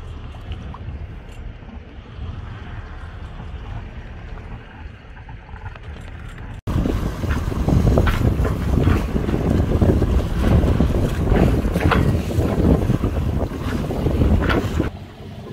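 Strong wind roars across the microphone aboard a sailboat on a multi-day passage to the Benjamin Islands, with 30 kilometre gusts; a softer stretch of wind and water gives way to loud, sustained buffeting wind noise for the rest.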